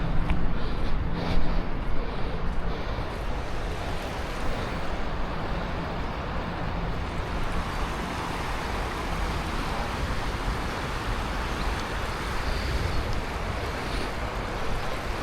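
The River Don rushes steadily through Sheffield, a dense, even wash of flowing water heard close and loud, mixed with faint city traffic and no voices.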